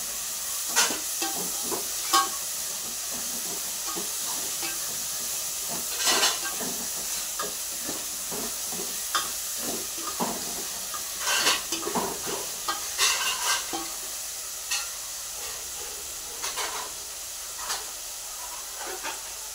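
Spices fry in hot oil in a pan for pithle, producing a steady close sizzle broken by scraping stir strokes throughout, with no voices.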